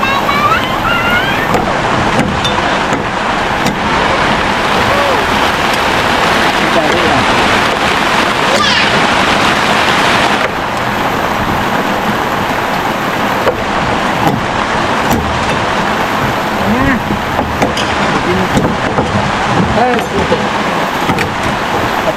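Heavy rain pouring down suddenly, a dense continuous roar of water on surfaces filling the scene, with people talking nearby over it.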